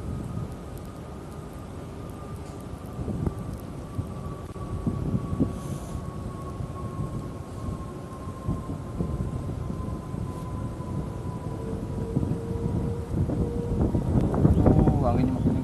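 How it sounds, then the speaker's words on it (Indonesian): Strong wind at sea buffets a small fishing boat, a loud, rough broadband roar that swells toward the end, while people talk throughout. "Anginnya makin kencang, guys."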